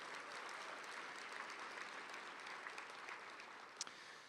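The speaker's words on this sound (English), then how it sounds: "Let's give Temecula a big round of applause." Applause from an audience at a county education showcase honoring Temecula schools, a steady, fairly quiet wash of many hands clapping throughout, with one sharper clap standing out near the end.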